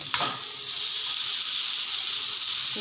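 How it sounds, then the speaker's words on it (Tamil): Onions sautéing in a modest amount of oil for a greens stir-fry, a strong, close, steady sizzle with a brief stir sound at the start and another near the end, no voices. "அளவான எண்ணெய் ஊற்றி நல்லா வதக்கிச்சுங்க"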